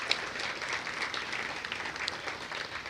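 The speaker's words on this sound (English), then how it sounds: "So everybody give yourselves a big round of applause." An event audience at a stigma-awareness gathering gives itself a steady round of applause, a continuous mid-level wash of many clapping hands with a few sharper individual claps standing out.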